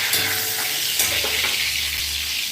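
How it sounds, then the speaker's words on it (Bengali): Curry leaves crackle and spit in hot oil on a gas stove for ghugni, a dense close sizzle with sharp pops, low background hum and no talk. "এই কারি পাতাটা ভাজা হয়ে যাবে"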